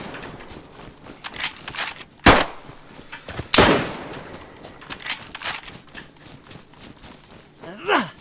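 Bursts of AKM rifle gunfire in a first-person shooter video game, two loud sharp reports standing out among scattered smaller shots and game effects, with players talking over the action.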